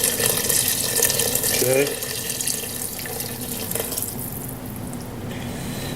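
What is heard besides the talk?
hot water poured into pan for enchiladas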